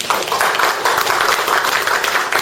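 Seminar audience applauding a retired air force officer at a regional development gathering, a steady dense wash of clapping from a roomful of people, fairly near, lasting the whole moment without talk.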